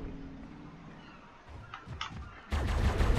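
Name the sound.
Tek rifle gunfire in the video game Ark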